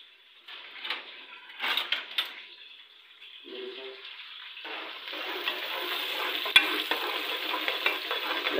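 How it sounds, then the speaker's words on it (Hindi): Garlic and onion frying in a pan for a Pakistani kofta curry, giving a steady broadband sizzle that grows louder and denser through the second half, with a few stirring scrapes and clatters early on. "लहसुन और प्याज को हमने पका लेना है, ठीक है। जब तक ये पक रहा है"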